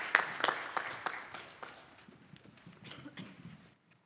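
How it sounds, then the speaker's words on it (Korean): A church congregation applauding during a teachers' dedication service, with scattered claps that start strong, thin out and fade to silence, and faint murmuring underneath. "다시 한번 박수로 축복해 주시기 바랍니다"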